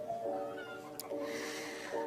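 A lucky house cat meows softly in a few rising, wavering calls, fairly faint against a hissy room background, with one sharp click partway through.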